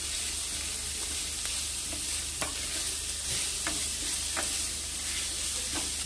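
Cumin powder and spices stirred and fried in a pan for dosa filling, a steady soft sizzle with spatula scrapes and taps recurring every second or so, close and continuous with no voices.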